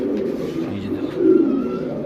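A big-sized Indian-breed female pigeon coos in a low, steady murmur at close range, swelling slightly near the end, with no voices over it.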